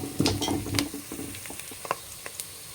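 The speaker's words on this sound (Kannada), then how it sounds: "ಈರುಳ್ಳಿ ಎಲ್ಲ ಚೆನ್ನಾಗಿ ಫ್ರೈ ಆಗಿದೆ." Onions sizzling in a pan for pundi soppu (gongura) chutney, with a few close stirring scrapes at the start, then a quieter steady fry and occasional light clicks.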